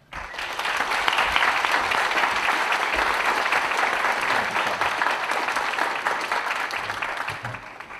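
An audience at a Spanish-themed lecture in Kansas City claps to welcome the speaker, a steady, full burst of applause that swells quickly, holds for several seconds, then tapers off.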